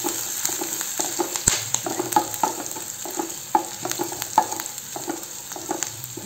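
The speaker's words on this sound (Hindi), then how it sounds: "इन्हें भी हम इसमें डाल देंगे और इन्हें बढ़िया से करेंगे फ्राई। अच्छे से हमें भून लेना है।" Green chillies, garlic and ginger fry in a pan, a close, even sizzle with frequent light clicks and scrapes of a spatula stirring them through the oil.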